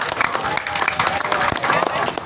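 An audience claps steadily and densely throughout at a Topeng Wali masked dance performance at Pura Aseman temple in Tabanan, Bali, with the applause close, loud and continuous.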